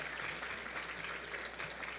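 An audience at a senior living seminar claps steadily, a dense, moderately loud patter of many hands heard alone throughout.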